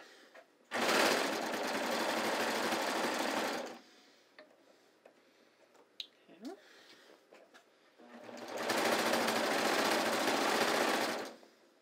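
A twin-needle sewing machine stitches pull-on pants being taken in, running loud and steady in two long bursts separated by a quiet pause with small handling clicks.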